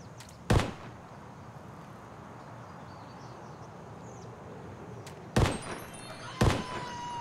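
Three sharp gunshots in Escape From Tarkov, one single report early then two fired in quick succession near the end, loud and close over a quiet room-tone background.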